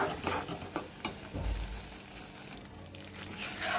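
Maida flour roasts in a pan with a low sizzle while a spatula stirs and scrapes it in irregular strokes, close and moderately quiet.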